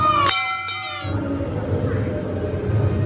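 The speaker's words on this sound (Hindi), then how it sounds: "घंटी, अभी रुको मैं बजाऊं।" A hand bell rings twice near the start at a Shiva temple, bright and metallic, with its tone trailing off under low background murmur.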